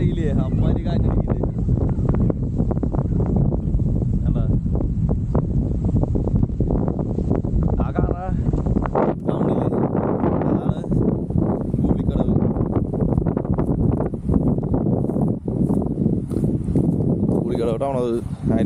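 Strong wind gusts roar steadily across the mountain viewpoint at Narasimukku in Attappadi, buffeting the microphone with a constant low rumble while a person talks throughout.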